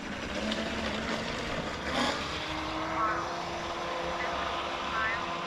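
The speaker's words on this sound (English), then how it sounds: "That's a really fast propeller" A high-pitched, very fast propeller on a high-power electric boat spins up under load, a thin rising whine and engine drone that carries steadily through the clip.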